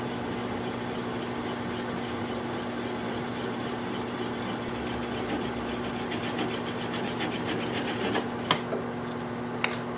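A wood lathe turns an oak burl bowl while a gouge cuts into it, giving a steady, close motor drone with a constant hum and rough cutting texture throughout, plus a couple of sharp ticks near the end.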